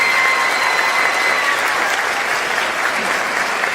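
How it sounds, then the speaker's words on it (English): Applause from a school audience for student performers at a junior high spring concert, a steady, dense wash of clapping that holds level throughout without fading, with faint tonal traces lingering above it. "big round of applause for the students here doing a good job"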